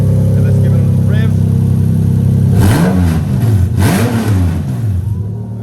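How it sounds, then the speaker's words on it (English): A Lexus IS200 fitted with a 2JZ-GE VVT-i engine idles loudly nearby, then revs twice in quick succession, the pitch sweeping up and falling back each time. "And let's give it a little rev."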